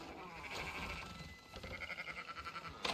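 Sheep bleat in Red Dead Redemption 2, several wavering calls over a noisy game soundscape, moderately close and faint overall.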